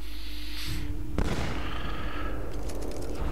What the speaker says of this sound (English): pick our pistol, shoot him